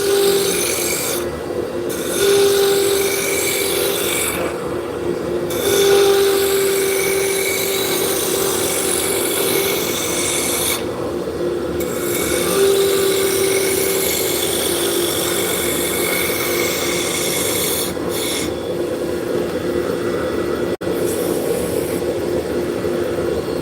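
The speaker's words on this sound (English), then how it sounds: "now we're going to go to the roughing gouge" A roughing gouge cuts into a spinning wood blank on a lathe, giving a steady, loud scraping rasp with a constant motor hum underneath that runs the whole way through with only small dips.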